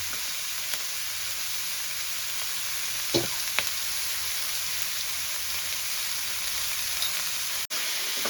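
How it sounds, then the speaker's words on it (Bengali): Vegetables for restaurant-style noodles sizzle and stir-fry in a pan over high flame, a steady, close hiss with a few sharp clicks and scrapes of stirring, no voices. "এবার হাই ফ্লেমে আমি শর্টে করে নেব সব সবজিগুলো।"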